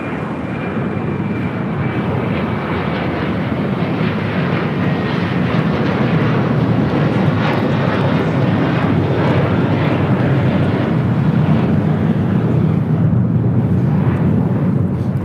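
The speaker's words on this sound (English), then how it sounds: "American Airlines Flight 4, taking off to JFK on an A321" An American Airlines A321 takes off at LAX bound for JFK, its jet engines a loud, steady, broadband roar that holds for the whole stretch without talk.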